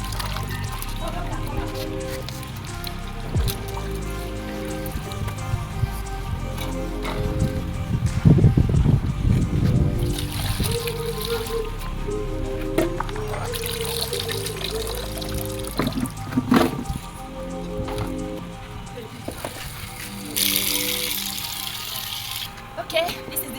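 Water pours and trickles while African salad (Edita Iwa), sliced oil bean, is washed in a bowl, with splashing and dribbling over background noise and a voice speaking.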